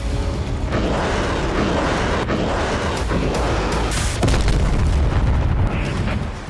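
Heavy, rumbling booms roll one into another, a dense barrage of explosions from Russian strikes on Ukrainian military, industrial and energy sites, with a constant roar and sharp cracks, loud and close.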